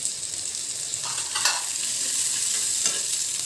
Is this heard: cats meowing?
no